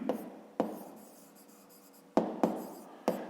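A pen writes by hand on paper during a fifth-grade maths exercise, with scratchy strokes and several sharp taps as the pen meets the page, close and clear, with no talking.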